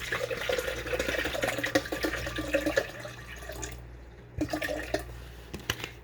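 Water runs and splashes steadily into a blender for several seconds, with a brief pause near the end before pouring resumes.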